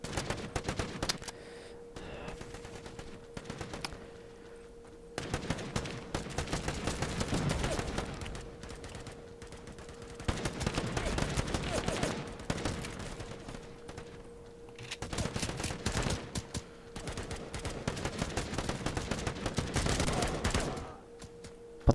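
A big gun in a video game fires in long rapid bursts, dense crackling volleys repeating every few seconds over about twenty seconds, separated by short quieter gaps under a steady hum.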